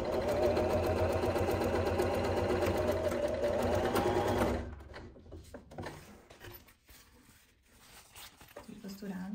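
Sewing machine stitching a nylon bag, whirring steadily and close for about four and a half seconds, then stopping and giving way to quieter rustling and handling noises.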